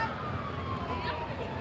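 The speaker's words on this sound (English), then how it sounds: "Is that an ambulance? It's an ambulance, isn't it?" An ambulance siren wails steadily at a distance, a sustained rising-and-falling tone over loud crowd and street noise at an outdoor illuminations switch-on event in Blackpool.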